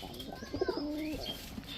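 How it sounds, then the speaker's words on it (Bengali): Budapest breed pigeons kept by a Bangladeshi pigeon seller coo softly nearby, a short burst of low throaty coos with a faint chirp against quiet background. "এসব প্রতিটা কবুতরের চোখ দেখেন"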